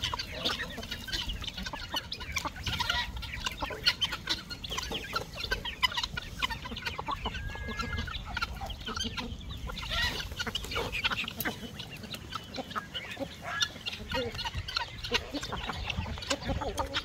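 Chickens and small chicks in a coop cluck and chatter continuously, a busy flock sound with geese mixed in, steady and moderately close over a long stretch.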